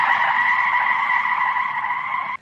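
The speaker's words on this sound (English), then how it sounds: "he applied the brakes quick" A car brakes hard and its tyres squeal in a sustained skid, loud and close on a rainy street, ending abruptly.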